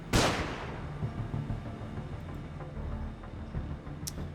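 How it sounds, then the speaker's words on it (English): A flashbang grenade goes off in the Underrail video game with a sharp, loud blast at the start that fades into a rumbling tail, followed by faint clicks, with no talking. "I'm going to move back a bit to throw another flashbang here."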